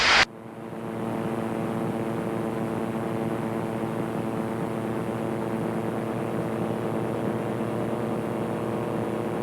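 A Naval Aircraft Factory N3N biplane with a 235-horsepower engine in flight, producing a loud, constant droning roar with a steady hum that holds unbroken throughout after a brief opening burst.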